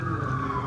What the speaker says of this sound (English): lots of sirens always going off everywhere.